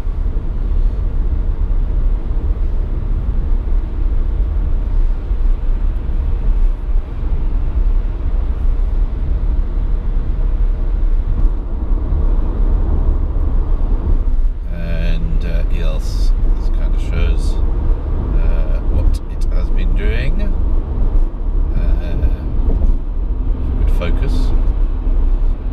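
A Renault ZOE electric car cruises on the motorway, giving a loud, continuous low road and wind rumble from inside the cabin, with someone talking over it in the latter half.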